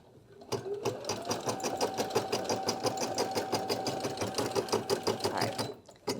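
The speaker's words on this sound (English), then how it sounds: "now you just hit start again, and you can start stitching out the next color" A Brother PE800 embroidery machine starts up and stitches out the next thread color, with a fast steady rhythmic clatter and a rising motor whine near the start, close by and running continuously for several seconds.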